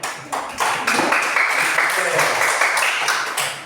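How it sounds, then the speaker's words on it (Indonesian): A classroom of students claps for a group, producing steady, dense applause that stays loud throughout, with some chatter or voices mixed in. "sekali lagi kita tepuk tangan dulu untuk kelompok daun"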